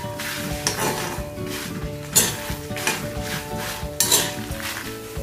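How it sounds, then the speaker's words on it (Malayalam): Sambar dal and Kashmiri dried red chillies heating in a pan make a steady close sizzle, punctuated by rhythmic stirring scrapes and a few sharp metallic clinks of a spoon against the pan. "1/2 ടീസ്പൂൺ സാമ്പാർ പരിപ്പും 15 വറ്റൽ മുളക് കാശ്മീരി ചില്ലിയാണ് ഞാൻ ഇവിടെ എടുത്തിരിക്കുന്നത് കേട്ടോ ഇത്രയിട്ട് ഇതൊന്ന് ചൂടാക്കി എടുക്കാം"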